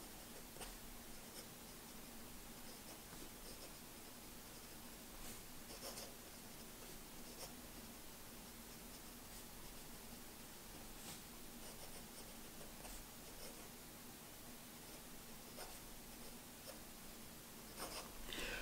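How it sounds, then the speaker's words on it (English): A Jinhao 80 fountain pen with a fine nib moves fast across paper, giving a steady, close scratchy rasp with small strokes and lifts, alone and without talk. "Fast writing."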